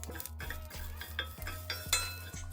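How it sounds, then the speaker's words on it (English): Spices and coconut roast in a pan with quiet stirring and scraping, and a few clinks of a utensil against the metal pan, under a low steady hum, without speech. "First we're going to roast all of these spices and coconut."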